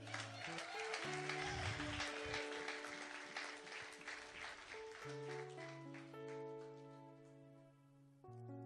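A church congregation claps for the Lord, the dense, fairly faint applause strongest early and then thinning, over sustained keyboard chords that keep playing underneath.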